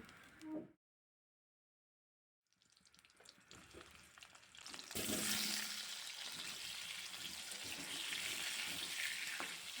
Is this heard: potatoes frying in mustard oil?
yes